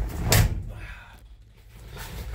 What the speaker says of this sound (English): Sorry, I should have told you I was slamming the door.